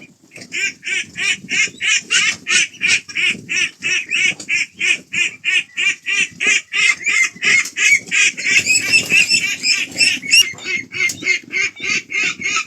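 Loud, repeated honking calls from a group of ducks, one rapid quack after another in a steady rhythm, close by with no voices.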